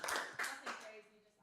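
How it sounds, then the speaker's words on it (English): Brief comedy club audience applause, a few loud bursts of clapping that quickly fade out beneath a voice starting to talk. "round of applause for the..."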